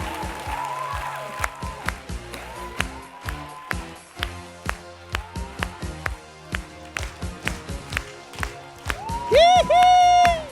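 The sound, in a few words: audience applause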